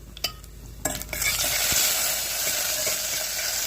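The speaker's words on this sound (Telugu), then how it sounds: "ఫస్ట్ అయితే ఆవాలు, జీలకర్ర, ఎండుమిరపకాయలు వేసేసాను. అవి కొంచెం వేగాలి." Mustard seeds, cumin and dry red chillies sizzle in hot oil for tomato pappu, a couple of sharp pops and clinks first, then a loud, dense, continuous hiss that fills the rest of the moment with no talking.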